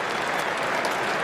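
Cricket crowd at Lord's applauding during an Ashes 2019 Test match, a brief, steady burst of dense clapping with no breaks or other sounds.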